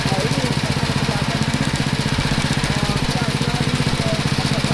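A rice threshing machine runs during a paddy harvest in a village in Maros, South Sulawesi, with a steady, loud, rhythmic engine chug throughout and no speech.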